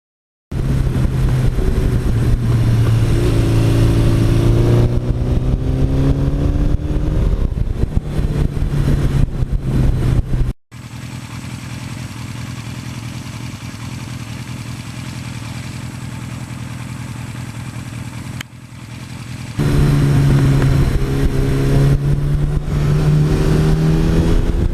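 A 1982 Suzuki GS1100E motorcycle engine runs loud and close, revving up and down in rising and falling sweeps. A steadier idle stretch sits in the middle before the revs climb again.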